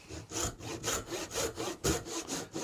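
A handsaw rips steadily through an oak tenon just outside the scored line, each rasping stroke repeating in an even back-and-forth rhythm, close and clear with no talking.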